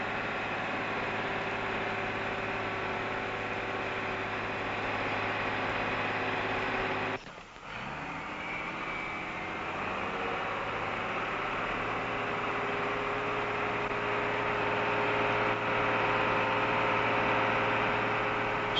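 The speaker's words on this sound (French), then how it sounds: "Grâce à un treuil à chaîne hydraulique, le chargement ne pose ici non plus aucun problème." Diesel engine of a Unimog U 406 running steadily with a low hum, driving a hydraulic chain winch for loading; a brief mechanical clunk and dip midway, then a steady drone with rising whine.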